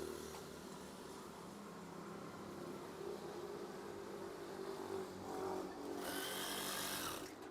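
A sewing machine stitching curtain swag fabric, a quiet steady mechanical whir with a brief louder burst near the end.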